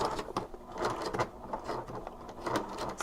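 A sewing machine stitches back and forth across a crossbody wallet, giving a steady close mechanical whirring chatter that lasts throughout with no talking.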